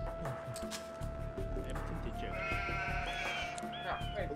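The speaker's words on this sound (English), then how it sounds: "I found my last 4 sheep" Sheep bleat in an Age of Empires II HD free-for-all match on the Black Forest map, with a few short, wavering calls rising over a busy bed of game sounds in the middle of the clip.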